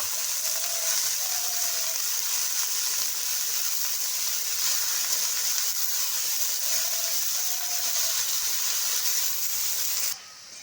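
Red spinach (lal shak) stirred into onions frying in a pan gives a continuous, fairly loud sizzling hiss that holds steady throughout and drops off abruptly at the very end, with no voices.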